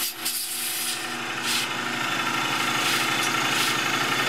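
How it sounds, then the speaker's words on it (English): A gas-fired, radio-controlled live steam model locomotive turns over with a steady, rasping chuff that repeats in a quick rhythm. The sound is close and continuous, with no talk. "this is a real steam engine, gas-fired, radio-controlled, and I'll just start it turning over."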